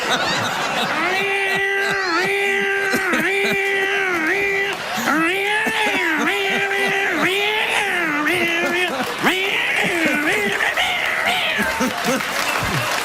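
A voice imitates a screeching cat that shades into a droning bagpipe wail, sustained and wavering over a loud, continuous crowd of applause and laughter at a comedy interview.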